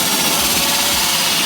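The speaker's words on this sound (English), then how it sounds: "Just a case of drilling that with a 75mm drill bit." Power drill fitted with a 75mm hole-saw bit cutting through a campervan floor, a steady loud whine and grind held continuously for about a second and a half with no talk.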